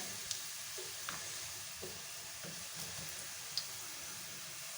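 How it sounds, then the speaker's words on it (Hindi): Onions browning in a pan for biryani give off a faint, steady sizzle with a few soft clicks and stirring taps scattered through it. "देखिए हमारी प्याज ब्राउन होने स्टार्ट हो गई है।"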